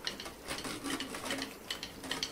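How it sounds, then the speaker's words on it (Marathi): A wooden churner (ravi) whisks cooked dal in a pot, giving soft, rapid scraping and tapping strokes in an uneven rhythm, close and fairly quiet with no voices. "ही जी डाळ शिजवली होती तिला आपण छान रवीने घोटून घ्यायची आहे"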